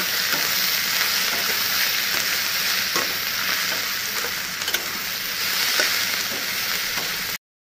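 Onions fry with turmeric and salt in a pan, a loud continuous sizzle close by with occasional stirring scrapes, uninterrupted until it cuts off at the end.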